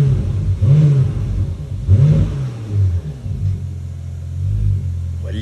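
Porsche Panamera with a straight-pipe exhaust, at night, revs and accelerates in repeated bursts, a loud, deep, rumbling engine note that rises and falls close by, with no talk over it.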